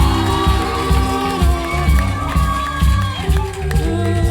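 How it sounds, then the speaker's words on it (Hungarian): Crowd at a Hungarian evening gala ball clapping and cheering loudly and continuously, dense applause with whoops rising and falling, music playing underneath. "Ők nekik hatalmas taps!"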